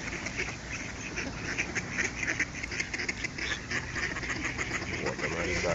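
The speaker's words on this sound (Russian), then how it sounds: "А пока я снимаю, молодая утка подбирается ко мне." A flock of wild ducks quacks steadily at close range while being hand-fed, their overlapping calls forming a dense, continuous chatter with no pauses.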